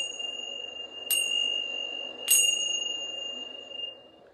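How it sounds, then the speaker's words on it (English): Meditation chimes at a yoga session ring out twice, each bright metallic strike leaving a long, sustained shimmering tone that fades slowly in a quiet room. "I'm gonna ring my chimes."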